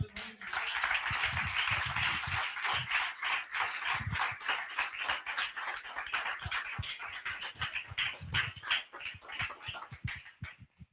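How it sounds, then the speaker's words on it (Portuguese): A church congregation claps in a loud, fast, continuous rhythm, with sharp individual claps standing out close by over about eleven seconds. "Aplauso a Jesus."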